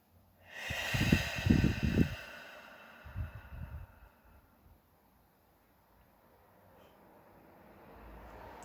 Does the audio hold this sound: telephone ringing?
no